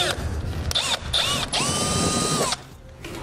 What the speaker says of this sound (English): So to do that, we're just simply going to drill the center out.